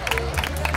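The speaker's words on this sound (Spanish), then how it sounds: "Fuerte aplauso." Crowd applauding at a children's urban cross-country race, a dense, close patter of clapping mixed with crowd noise and voices throughout the brief moment.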